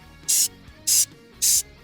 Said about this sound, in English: Now for the bottom part, I'm actually going to spray it too.